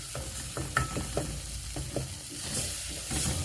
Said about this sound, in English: I want to let my tomatoes get fully cooked.